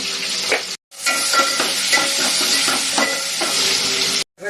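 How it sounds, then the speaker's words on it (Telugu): Onion, green chillies and ginger-garlic paste fry in hot oil with turmeric, a loud, continuous sizzle broken by rhythmic stirring scrapes and clinks of a spoon against the pan, with two brief silent cuts. "డైరెక్ట్ ఆయిల్లో ఒక ఉల్లిపాయ రెండు పచ్చిమిర్చి చీలికలు ఒక వన్ స్పూన్ అల్లం వెల్లుల్లి పేస్ట్ పసుపు హాఫ్ టీ స్పూన్"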